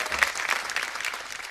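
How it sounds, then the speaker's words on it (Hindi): Applause on the set of a Hindi TV comedy episode, a dense, steady patter of hand claps at moderate loudness, brief and continuous with no voices over it. "और तालियां!"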